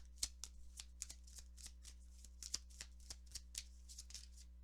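Oracle cards are shuffled by hand in quiet, repeated soft flicks and riffles, close by with no talk, over a faint steady hum.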